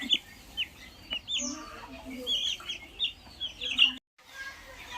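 Several Brahma chickens cluck and squawk in short irregular bursts, close and somewhat muffled inside a carton.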